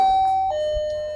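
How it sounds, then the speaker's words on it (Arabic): A doorbell for delivery orders sounds a clear electronic two-tone chime, one high note dropping to a lower one, heard close and alone. "ده جرس الطلبات"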